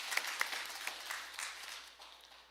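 A church congregation applauds steadily during a Sunday service, many hands clapping together, then the applause fades away over a couple of seconds.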